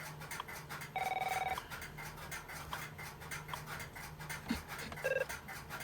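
An AT&T Western Electric 206/410 Merlin system telephone gives a short electronic warbling ring, then a second briefer burst, against low room hum and faint handling noises.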